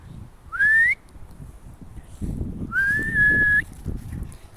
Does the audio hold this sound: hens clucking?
no